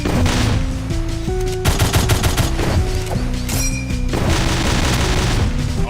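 A dense gunfire barrage in the Doom-based shooter MOHRTA: rapid loud repeated shots and booms layered over driving game music, continuous throughout.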